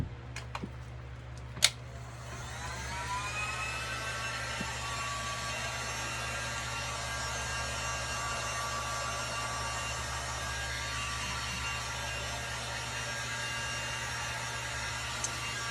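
A hair dryer blows on reclaimed Christmas tree items, starting after a few sharp clicks and then running as a steady, close, even whoosh over a low electrical hum, with no talking.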